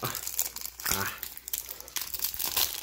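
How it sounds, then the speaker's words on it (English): Plastic packaging on a Hatchimals toy crinkles and crackles in short, close bursts as it is pulled away, with a quiet voice in between. "Too bad we're taking off all the pretty packaging."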